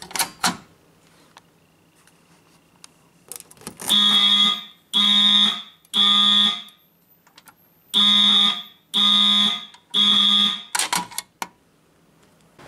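A fire alarm sounds during a system test in loud, evenly timed bursts of harsh horn tones, two groups of three, with quiet clicks and handling noise between them.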